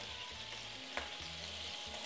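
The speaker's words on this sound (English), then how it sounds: "now I can put the veal in this pot" Veal going into a hot pot for a shank dish sizzles in a steady broadband hiss, with a low droning hum pulsing underneath and a brief bright tap near the middle.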